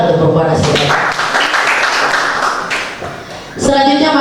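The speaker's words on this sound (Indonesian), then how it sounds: "Tepuk tangan untuk perempuan asli Papua." Audience applause at a book launch event in Papua Barat, a dense burst of clapping filling the room for several seconds, fading briefly before swelling again near the end.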